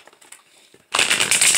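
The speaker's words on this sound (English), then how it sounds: "So let me get a quick shuffle going on here." A deck of oracle cards is shuffled up close: a few faint card taps, then a loud, dense riffling burst that runs to the end.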